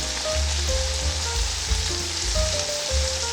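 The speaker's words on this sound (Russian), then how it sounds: "продолжаем обжаривать мясо с луком и специями минут 5 на сильном огне" Meat with onion and spices fries on high heat, a steady loud sizzle with occasional stirring scrapes in the pan and no talking.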